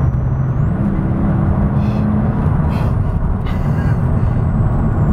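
Mercedes SL65 AMG engine building under throttle from inside the cabin, a steady loud low roar with a rising whine, no talk over it.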